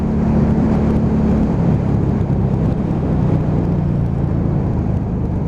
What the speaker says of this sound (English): just that burble as it comes down through the box